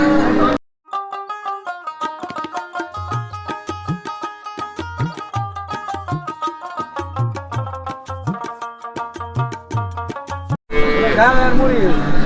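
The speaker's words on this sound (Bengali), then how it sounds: "আমরা এখানটায় ছোট ছোট কিছু ষাঁড় গরু এখন দেখতেছি" Cattle, including small bulls, moo repeatedly in deep, drawn-out calls at the Hazratpur cattle market, several animals overlapping close by, with a busy, noisy backdrop and some human voices.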